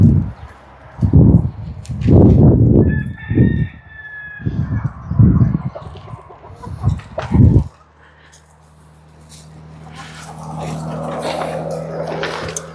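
Chickens and a rooster cluck in a series of loud, close bursts as they follow someone carrying a bag on a farm in Mexico. Quieter ambient noise takes over in the second half.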